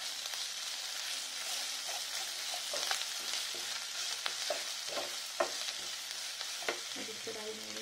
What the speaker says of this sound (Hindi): अब मैं इसको 3 से 4 मिनट तक अच्छे से इसको भी फ्राई कर लूंगी।